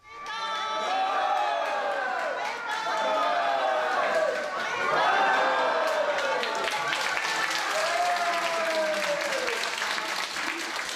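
About a hundred bath-house patrons crowd around a TV at a day-trip hot spring, cheering and clapping loudly and continuously for Urawa Gakuin's spring high school baseball championship, voices shouting over steady applause.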